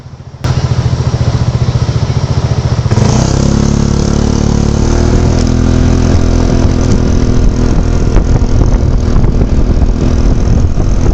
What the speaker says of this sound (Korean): 배기음이 주는 진동은 언제나 내 심장 박동수를 올려주곤 합니다.